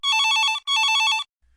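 A telephone bell rings twice in quick succession, each bright electronic trill lasting about half a second with a short gap between, loud and isolated, then silence.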